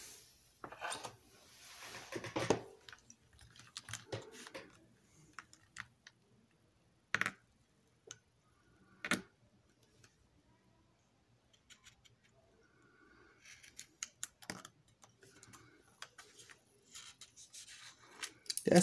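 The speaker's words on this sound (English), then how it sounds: "I want to go ahead and make little marks here with an X-Acto knife" An X-Acto knife makes scattered sharp little taps and scratches while marking a dollar store sign, faint and close with long quiet gaps between strokes.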